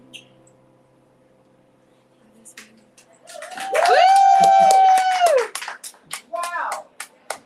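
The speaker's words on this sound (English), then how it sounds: "Another round of applause for Mick, everyone." A live Broadway talk-show audience breaks into scattered clapping after a song, under a loud sustained whooping cheer from a voice and a few excited shouts.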